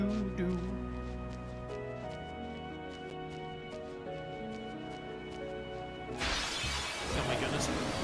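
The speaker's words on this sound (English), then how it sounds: "Seeing the enemy turn into a rock and shatter into a million little polygons is really funny." A petrified enemy shatters into stone fragments in Final Fantasy X HD Remaster, heard as a bright crumbling burst over game music, loud and close near the end.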